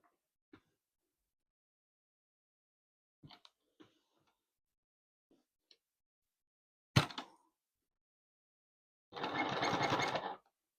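A sewing machine stitches down a quilt piece in a short, close, steady burst near the end, after a scatter of faint taps and one sharp knock.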